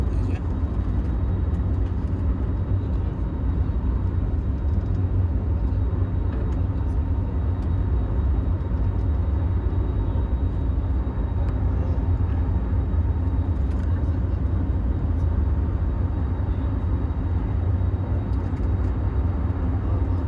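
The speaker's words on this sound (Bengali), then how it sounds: "প্লেন কিন্তু অলরেডি ফ্লাই করে ফেলছে।" Airliner cabin just after takeoff on a Dhaka to Delhi flight: a loud, steady low engine roar and rushing hum fill the whole stretch without a break, with no clear talk.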